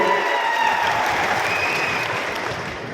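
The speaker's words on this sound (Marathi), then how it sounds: "दादासाठी एकदा जोरदार टाळ्या" A crowd at a political rally breaks into loud, dense applause for a leader called Dada, the clapping sustained and close and fading only slightly over a few seconds.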